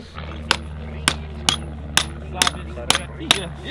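A hammer strikes a rusted metal rod on a Nissan car seven times at a steady, even pace, each blow sharp and ringing against a low background hum.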